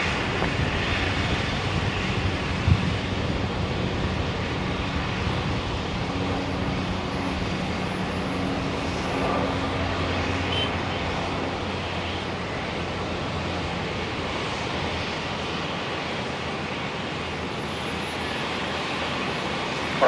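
A Link Airways Saab aircraft on the runway at Brisbane Airport gives off a steady, broad engine roar that holds at an even level for the whole stretch, with no pauses.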